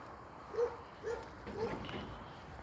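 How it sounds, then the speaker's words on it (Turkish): Three short barks from a dog somewhere off in the distance near an abandoned bakery, evenly spaced and fairly faint over quiet outdoor background. "Köpekler falan var zaten havlıyor."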